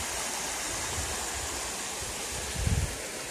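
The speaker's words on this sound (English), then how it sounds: "water's definitely moving pretty fast" Rushing water pours continuously nearby at a gold claim, a fast stream with a broad steady roar and a brief louder surge near the end.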